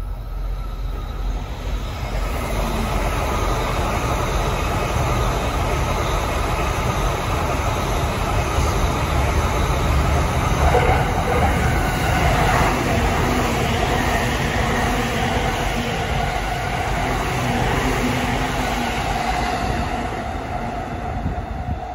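A Saikyo Line rapid train running through a station without stopping, a loud sustained roar of wheels and rail noise with squealing tones that rises slightly mid-pass and stays steady throughout.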